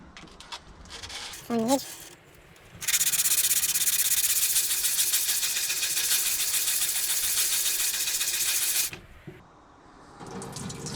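A sharpened kitchen knife blade is rubbed dry with a cloth, a loud, steady broadband scrubbing that runs for about six seconds after brief tap splashes, then stops.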